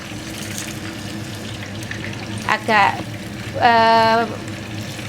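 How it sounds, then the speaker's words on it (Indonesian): Fish sizzling as it fries in margarine in a pan while a person talks over it, with a steady frying hiss throughout and two brief louder sizzling bursts. "Goreng ikannya lumayan agak gelap ya."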